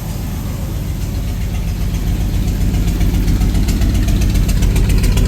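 A 1977 Ford F250 engine fitted with a Holley 4412 carburetor idles with a steady low rumble and rhythmic pulsing, loud and close, rising slightly partway through, with no voices.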